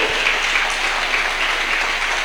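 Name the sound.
congregation applauding in church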